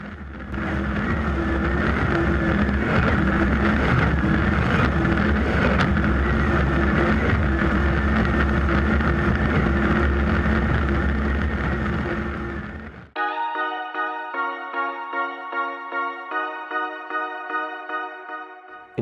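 Mercury Racing outboard engine driving a racing boat, a loud, steady roar with wind noise for about thirteen seconds before it cuts to a different, rhythmic tonal sound.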